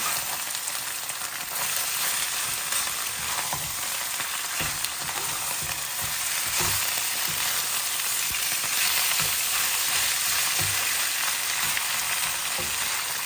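Peanut chicken stir-fry being stirred in a hot pan: a dense, continuous sizzle up close, with soft scraping and clacking from the utensil as the pieces are turned, and no talking.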